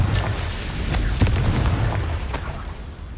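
Confringo fire spell explosions in the Hogwarts Legacy video game: a dense run of booming blasts with sharp bursts near the middle and end over a constant low rumble, loud and close.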